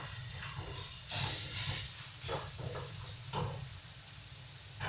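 Potatoes fry in a pan in a home kitchen with a soft, steady sizzle and hiss, broken by a few brighter bursts of crackle as the pieces are stirred. No one speaks.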